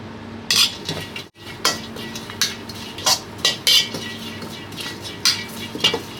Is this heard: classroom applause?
no